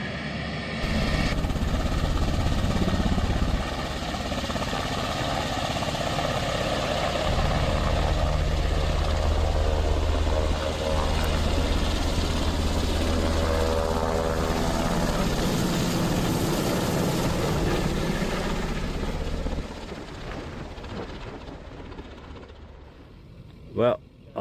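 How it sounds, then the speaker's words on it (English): A helicopter flies away from a fire scene where the fire department has arrived, its loud, steady rotor and engine drone holding strong before fading over the final seconds, ending with a brief sharp knock. "the chopper is moving on to the next thing"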